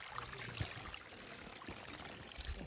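Shallow creek water flowing along a Smoky Mountains hiking route, a faint, steady wash of trickling water that continues alone throughout.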